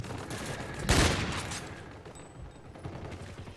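A single sharp, loud sniper rifle shot in a video game bursts out near the start, followed by a fading tail and faint mechanical clicks of the weapon cycling.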